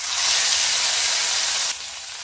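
A loud, steady hiss of hot oil tempering sizzling as it is poured into Rajasthani kadhi, fading slightly toward the end, with no talking.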